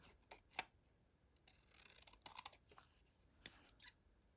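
Scissors snip the perforated zigzag edge off a postage stamp in a handful of small, close, quiet cuts with brief pauses, over a near-silent background.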